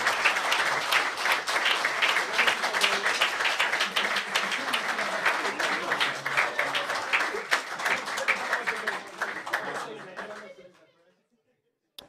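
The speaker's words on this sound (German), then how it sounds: "jetzt nochmal einen großen Applaus hier für Panther Sports, die hier gewonnen haben" Loud, sustained applause from an esports event crowd cheering the winning team, Panther Sports, after a Season 2 Rainbow Six match, with scattered laughter and chatter, continuing steadily before fading out near the end.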